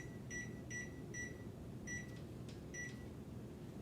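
Four short, sharp electronic beeps from an oven timer being set, followed by a fifth after a brief pause, sounding close over a steady low hum of kitchen background noise.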